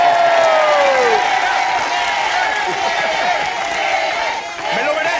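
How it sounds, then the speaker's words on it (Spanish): A studio audience at a comedy show claps and cheers, a loud, continuous roar of applause mixed with whoops and shouting voices that dips briefly near the end. "Fuerte el aplauso para el señor Pierangelo."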